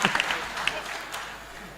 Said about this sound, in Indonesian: Tepuk tangan untuk tongkat.